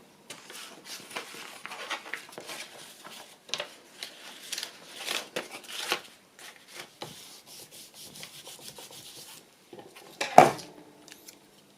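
Scissors trimming paper for a pocket craft make soft snips and papery rubbing close up, intermittent and quiet, ending with a sharper clack, with no talking.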